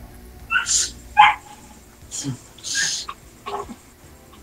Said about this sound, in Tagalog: Ano ba aso yan?